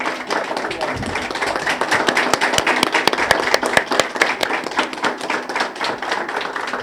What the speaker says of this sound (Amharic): ቆማችሁ ለሰኚ አጨብጭቡልኝ።